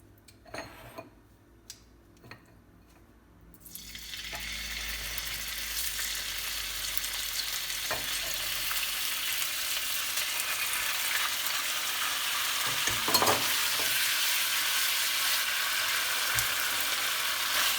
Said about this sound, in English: 2 tablespoons of vegetable oil here onto our wok, and I start with beef